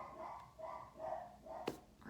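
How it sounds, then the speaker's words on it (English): A dog barks several times in short, uneven bursts, sounding somewhat muffled and slightly distant. "Please excuse my dog."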